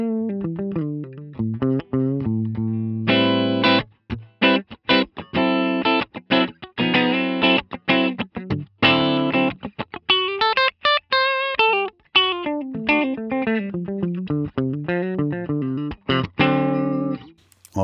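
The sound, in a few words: Gibson SG electric guitar through Helix D-style amp model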